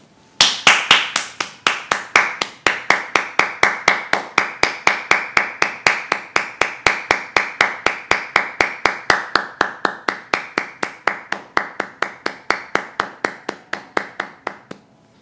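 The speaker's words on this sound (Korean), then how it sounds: "모두 3초간 박수" Rhythmic hand clapping, sharp even claps at roughly four per second that continue steadily for about fifteen seconds, close and fairly loud, with no talking.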